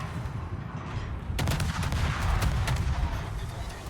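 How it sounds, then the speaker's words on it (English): Naval ship guns boom in World of Warships, a sudden heavy blast followed by rolling, continuous rumbling gunfire and crackling salvos over a dense low battle din. "Love the sound of the guns, by the way."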